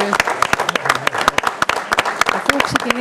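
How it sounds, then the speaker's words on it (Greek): Clapping at a Greek Asia Minor cultural association event in Kozani for Thanasis Ritzoglou, the events organizer, sounding as sharp, fairly close individual claps in an irregular rhythm, with voices mixed in. "Ένα θερμό χειροκρότημα για τον Θανάση."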